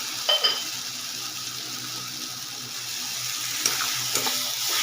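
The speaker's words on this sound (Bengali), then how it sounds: "মশলা কষা হয়ে গেছে" Masala spice paste sizzles steadily in a pan as it is sautéed, a soft continuous frying hiss with a few clinks of a spoon stirring against the metal.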